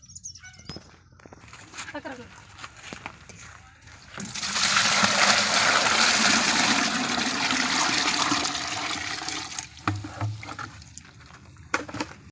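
Water gushes into a container for making liquid jeevamrutham, a loud steady pour lasting several seconds between quieter handling noises and a person speaking.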